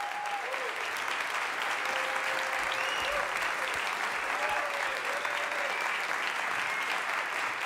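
A concert audience at a tribute event gives sustained, full applause welcoming an instrumentalist on stage, a thick steady roar of clapping with a few faint whoops and cheers rising over it.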